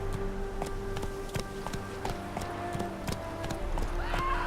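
Hooves of Roach, Geralt's horse in The Witcher 3, clopping in a steady rhythmic gait under a droning musical score, with a whinny rising near the end; no talk.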